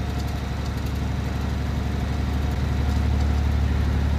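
A truck engine in the Alaskan Road Truckers video game drones steadily at idle-like pace, a low, constant rumble with even pulsing that stays loud and unchanging from start to finish.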